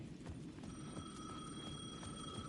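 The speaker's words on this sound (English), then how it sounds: "The payphone at the edge of the plaza was ringing again." Payphone ringing at the edge of a plaza in Alan Wake 2, faint repeated bell-like rings over a quiet low background.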